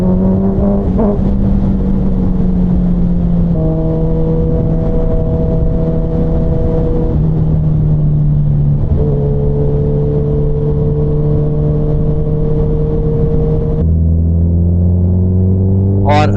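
A Suzuki Hayabusa 25th Anniversary motorcycle engine rumbles loud and steady on a night road, its pitch stepping up and holding through several throttle blips, with a deeper surge near the end.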